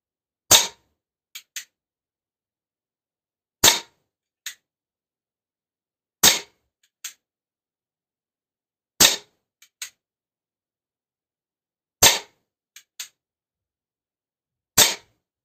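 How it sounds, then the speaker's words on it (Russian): A CO2 air pistol firing darts, six sharp cracks at steady intervals of about three seconds, each followed by a fainter dull impact, in an otherwise silent setting. "Также мы можем из него стрелять дротиками."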